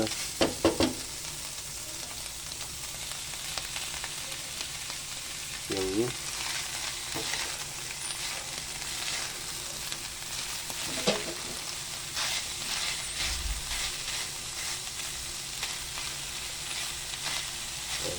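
Ground meat fries in a pan with a steady hiss and sizzle, broken by occasional scrapes and stirring clatter, with no talk.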